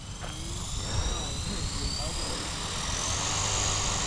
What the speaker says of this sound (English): The helicopter is now gonna want to turn to the left.